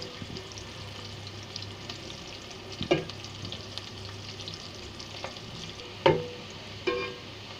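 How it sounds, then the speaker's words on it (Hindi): Onions brown in a frying pan for mash dal, a quiet continuous sizzle with a few distinct clinks and scrapes of a stirring utensil scattered through, and no talking. "ये देखें लाइट लाइट सा ये ब्राउन होना शुरू हो गया।"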